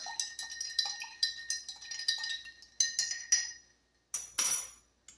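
Rapid, bright metallic clinking as a spoon stirs a Martinez cocktail with ice in a glass jar, repeating in quick rhythmic bursts, then a brief pause and a final louder rattle of ice.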